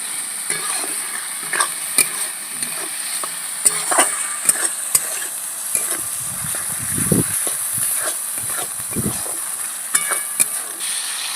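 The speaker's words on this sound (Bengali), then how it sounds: "মশলাগুলো ভালো করে তেলের মধ্যে কষিয়ে দেবো" Ground spice paste frying in oil with turmeric, salt, chopped tomato and slit green chilli for a rohu fish curry, a continuous close sizzle broken by repeated scraping and clacking of a spoon stirring the pan.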